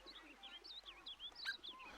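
Soft bird coos and chirps from the video game We Love Katamari, a string of short tonal calls in quick succession, moderately loud and alone, with no talk.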